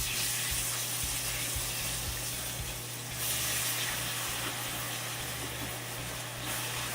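Chicken frying in hot oil for pollo a la brasa gives a steady, close hiss and sizzle throughout, with a low hum and a few faint clicks underneath and no talking.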